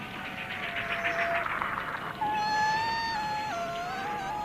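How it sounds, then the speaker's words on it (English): A bird chirps and trills in clear, tonal whistles against a steady noisy background, the calls rising and falling in short phrases. "What is it, Old Thrush?"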